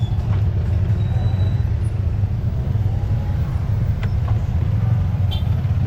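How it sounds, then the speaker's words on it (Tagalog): Road traffic on the way back to Binangonan, a constant loud low rumble of passing cars and buses with no pauses. "Ang traffic pabalik."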